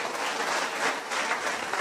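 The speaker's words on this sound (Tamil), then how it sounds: "ஒரு நல்ல கைத்தட்டல் அவங்களுக்காக கொடுக்கலாமா எல்லாரும் சேர்ந்து?" Audience applause at a college event, a dense steady wash of many hands clapping together for the whole stretch, moderately loud with no voices rising above it.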